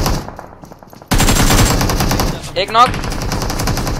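Automatic gunfire rattles in a close-range fight in the video game BGMI, starting abruptly after a quiet moment and continuing as sustained loud bursts, with a player's voice briefly heard over it.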